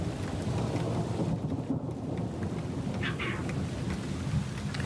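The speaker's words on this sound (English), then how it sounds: "That is something you do not hear often in our area. It's thunder." Thunder rolling through a severe thunderstorm over Seattle, a steady broadband rumble with rain noise running throughout, fairly loud and continuous with no talk.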